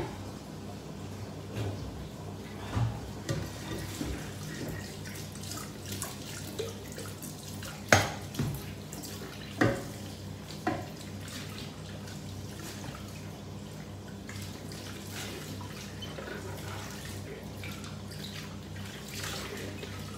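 Water running into a cooking pot while pork menudo is prepared, a steady wash of pouring and trickling with a few sharp knocks and clatters scattered through it and no voice heard.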